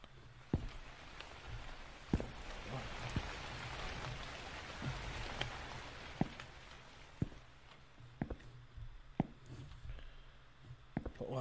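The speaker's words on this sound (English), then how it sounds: "It sounds like it's raining." Rain falling in the horror video game The Convenience Store, a steady soft hiss of downpour with scattered sharper drops and taps throughout, fairly quiet with no talk over it.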